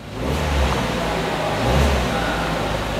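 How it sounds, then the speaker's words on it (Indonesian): Suzuki Ertiga Hybrid engine settled at a 1500 RPM idle, then given a light blip of throttle that swells into a smooth, close, steady rev with low rumble, briefly rising before easing back to an even drone. "Dan sekarang RPM-nya pun stabil di RPM 1500, dan akan kita gas sedikit."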